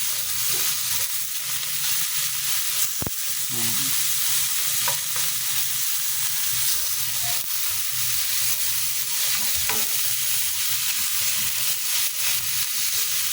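Smoked fish (tinapa) sautés with tomatoes in a pan, a loud, steady close sizzle and crackle with occasional utensil scrapes and taps, no talking.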